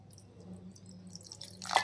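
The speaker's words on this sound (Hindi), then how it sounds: "और डाल देंगे थोड़ा सा पानी" A little water poured into a kitchen mixer jar already holding curd, for a khatta dhokla batter: faint trickling that ends in one brief, brighter splash near the end, close and quiet, with no voices.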